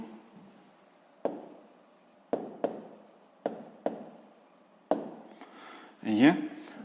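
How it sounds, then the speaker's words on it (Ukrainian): Pen writing out an answer on paper during a sixth-grade math exercise, a series of sharp taps and short scratchy strokes in uneven bursts, close and fairly quiet, ending in a louder rustling scrape. "записуємо тоді відповідь"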